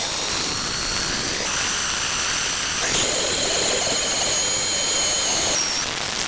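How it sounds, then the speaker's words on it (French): Boat engines on a boat at Apataki atoll in the Tuamotus hum steadily, then a second engine kicks in partway through and the drone grows louder with a high whine on top. "Je viens d'allumer les moteurs,"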